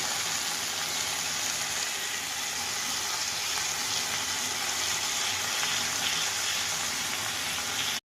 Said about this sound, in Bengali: এই যে দেখো বন্ধুরা, ভেন্ডি আর আলুটা একটু ভাজা ভাজা হয়ে আসছে